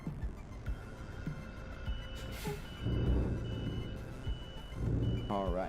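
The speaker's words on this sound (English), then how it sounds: "I love the sound of these truck engines." A truck engine in Euro Truck Simulator 2 idles and swells in low rumbling surges, with reversing beeps and a hiss of air brakes layered over it, moderately loud and close.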